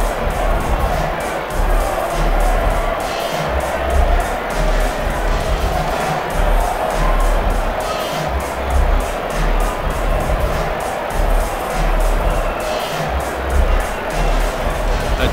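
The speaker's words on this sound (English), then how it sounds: "There's a real excited buzz around the crowd here." A stadium crowd in the rugby video game Rugby Challenge 4 keeps up a loud, continuous excited roar and cheering that stays steady throughout.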